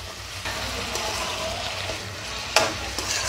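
Potato pieces seasoned with turmeric and salt fry in a pan with a steady soft sizzle, broken now and then by the sharp scrape of a spoon stirring them.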